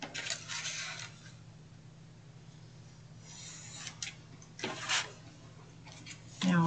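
Scissors snip in at an angle through card corners in a few quick crisp cuts close to the mic, separated by stretches of quieter rustling.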